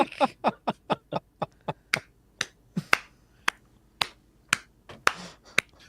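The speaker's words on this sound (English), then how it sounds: "I'm gonna snap my fingers" Repeated finger snaps, about twenty sharp crisp clicks in a quick uneven rhythm, close and fairly loud, standing alone with no talk.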